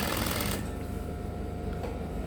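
A sewing machine runs steadily while stitching culottes fabric, its fast, even mechanical chatter continuous and close for the whole stretch, a little louder and busier at the very start.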